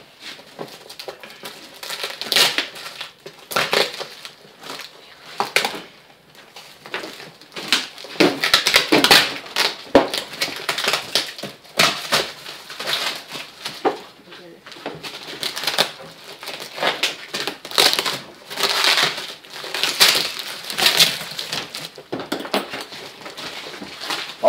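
A cardboard box being opened indoors, with roughly twenty-five seconds of continuous crinkling, tearing and scraping, broken by irregular sharp clicks and rustles at close range and no talking.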